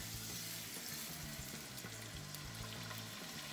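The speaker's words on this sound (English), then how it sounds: "We'll put it in the frying pan." Chicken seasoned with salt and pepper frying in oil in a skillet, giving a steady, close sizzle throughout with a low hum underneath and no talking.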